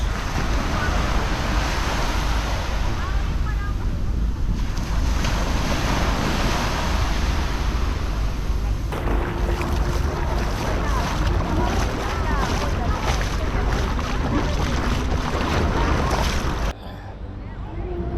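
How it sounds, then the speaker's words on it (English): Surf rolls in steadily at El Nido main beach in the Philippines, a continuous broadband wash mixed with wind buffeting the microphone, with distant voices underneath and a brief drop near the end. "so this is El Nido main beach"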